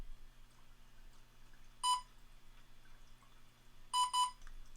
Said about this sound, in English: And there was the double beep.